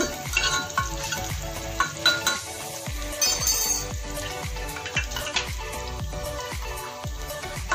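Brown rice fries in a pan with a continuous sizzle, broken by repeated scraping clinks of a utensil stirring it at a fairly regular rhythm. The sound is close and moderately loud.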